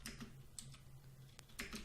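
Quiet clicks from a computer keyboard come in short, irregular bursts of keystrokes with brief pauses between them, faint and close, with no talking.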